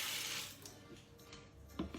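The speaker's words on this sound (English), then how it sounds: "I'm going to get you to fill water from the bottom right up to there" Tap water running into a used cleaning-product refill bottle, a short, faint splashing hiss that fades slightly before a few small bumps near the end.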